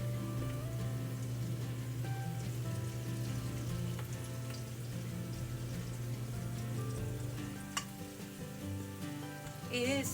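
Onions frying in a pan with turmeric, cardamom, coriander, cumin and garam masala, a steady close sizzle with soft stirring scrapes and a faint tonal hum underneath.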